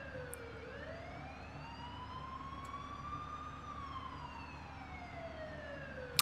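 Sirens wailing in SimCity 4 Deluxe city traffic, a steady rising and falling siren tone sweeping slowly up and then down over a constant background hum, moderately faint with no voices.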